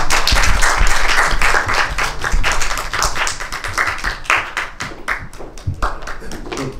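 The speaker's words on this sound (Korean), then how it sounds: "세 분 입장하실 때 박수로 환영 부탁드릴게요." Audience applause greets a film director and two lead actresses at an opening-day screening event in a Korean cinema, dense and loud, sustained clapping from many hands throughout.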